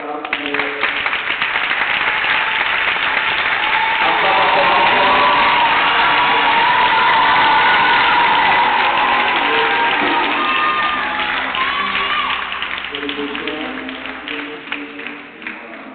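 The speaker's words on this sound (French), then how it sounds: "Pendant qu'on acclame" Wedding guests cheer and applaud together in a loud, steady crowd roar with shouts and clapping that lasts throughout, easing slightly toward the end.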